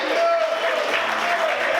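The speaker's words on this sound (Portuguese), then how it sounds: "Você pode aplaudir o Senhor e adorar a Deus por isso." Church congregation applauding, a dense continuous patter of many hands at moderate loudness, with a voice faintly audible through the clapping.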